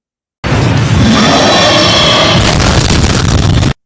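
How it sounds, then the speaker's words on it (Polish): A loud, sustained explosive roar of a dinosaur blowing up in the film Carnosaur 5, with crackling debris, bursting in abruptly and rumbling on for about three seconds before cutting off, no voices. "jeden z dinozaurów wybucha w naprawdę widowiskowy sposób"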